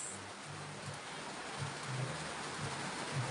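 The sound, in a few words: rain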